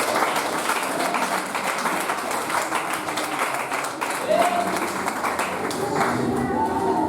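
A church congregation applauding after a sermon, steady dense clapping from many hands filling the room, with voices mixed in underneath.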